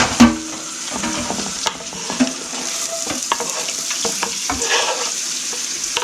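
Onions frying in a pan for broccoli cheese soup, heard as a loud, close sizzle with a few spatula clacks and stirring scrapes scattered through it. No talking.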